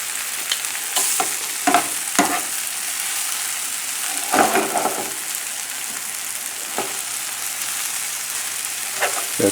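Spinach and shallots frying in a pan, a loud continuous sizzle with occasional scrapes and stirring knocks of a utensil against the pan, close and unbroken.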